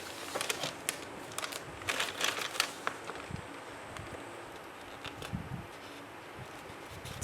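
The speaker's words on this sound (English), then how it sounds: "let's just go in with a small pair of scissors." Small scissors snip into paper in an altered book, giving a few close, crisp cuts and some rustling of paper in the first few seconds, then quieter handling.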